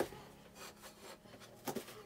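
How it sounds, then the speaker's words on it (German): A special sharpening stone rubs along the edge of an ice skate blade in short, quiet scraping strokes, with a few sharper rasping touches near the end, heard close and alone. "Das sind so spezielle Schleifsteine."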